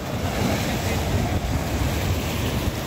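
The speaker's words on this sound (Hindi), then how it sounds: "ये समंदर की मौजें है।" Sea waves surge and wash steadily along Sandspit beach in Karachi, a loud continuous roar of surf mixed with wind buffeting the microphone, with no clear breaks in the rush of water.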